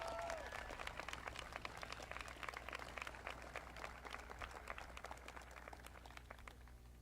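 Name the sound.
graduation ceremony audience applause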